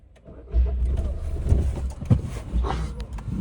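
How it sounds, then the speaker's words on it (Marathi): Car engine starting after an accident, a low rumbling turnover and catch that settles into a rough, uneven idle, fairly close and loud against outdoor background noise. "गाडी चालू होती, त्याने गाडी चालू केली ती."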